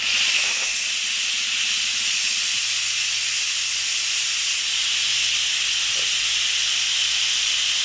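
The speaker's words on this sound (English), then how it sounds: "now it's time to vent and release our steam" Instant Pot pressure cooker venting steam, a loud continuous high hiss that stays steady from start to finish, with a faint low hum beneath.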